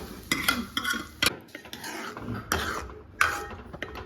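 Dal tipped into a pan and stirred with a metal spoon while cooking mango dal, giving a series of sharp scraping clinks and knocks at irregular intervals over a faint sizzle.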